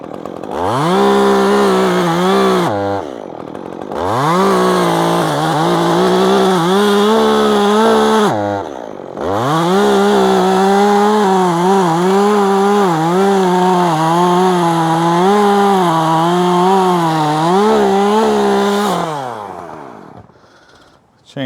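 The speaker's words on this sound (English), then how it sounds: "Chainsaw is jumping like that because we filed the rakers down a little too much" A chainsaw with over-filed rakers cuts into a tree, running loud and close in long sustained bursts with brief pauses and revving pitch swings, the engine bogging and surging as the chain grabs.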